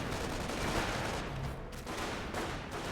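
Rapid gunfire from Panzer Grenadier infantry in the Company of Heroes 1 strategy game plays as a dense, continuous clatter of overlapping shots and battle noise lasting the full stretch, with no speech.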